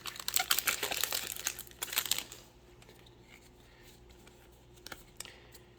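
A Modern Horizons 2 booster pack wrapper crinkles and tears in a quick burst of close, crisp foil crackling for about two seconds, then settles into quiet with a couple of faint rustles.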